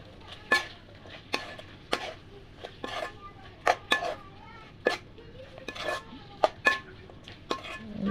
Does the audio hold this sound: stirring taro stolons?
yes